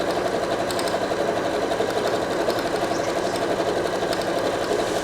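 A Bernette b38 sewing machine stitching a decorative flower-and-leaf pattern runs with a steady, fast mechanical whir and rhythmic ticking of the needle, close and continuous throughout.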